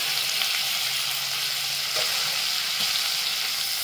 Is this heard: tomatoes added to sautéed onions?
yes